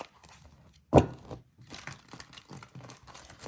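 A sharp snap of tarot cards followed by a soft, papery riffling and shuffling that continues in uneven bursts, close and fairly quiet.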